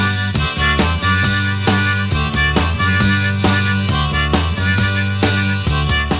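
A harmonica riff plays a melody through chords with a trill, set within a full 1960s band arrangement with steady drums and bass, the reedy line pulsing loudly in regular rhythmic phrases.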